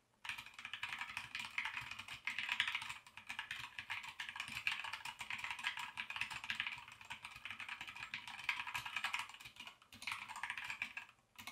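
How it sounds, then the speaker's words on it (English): Rapid, steady clacking of a mechanical keyboard with Gateron Brown switches being typed on close up, in continuous bursts with a couple of short pauses. "It has Gateron Brown switches, so typing feels and sounds very pleasing."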